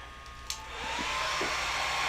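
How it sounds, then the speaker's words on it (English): A hair dryer clicks on and ramps up into a steady, loud whoosh of blowing air, drying alcohol inks on Yupo paper. "let's get our blow dryer out again"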